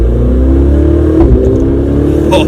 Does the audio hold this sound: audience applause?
no